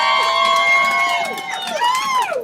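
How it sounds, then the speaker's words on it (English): An event crowd at the 11th Annual DASH cheers loudly, with high whoops and shouts that rise and fall, dense and close throughout. "Let's give them a round of applause"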